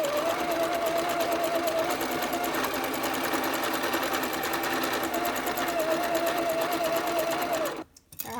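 Sewing machine running steadily while stitching half square triangle fabric pieces, a close, continuous fast mechanical whir with a high hum, stopping abruptly at the end.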